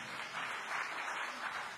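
Congregation at a church service applauding, a steady, even wash of many hands clapping at moderate distance, unbroken and without voices.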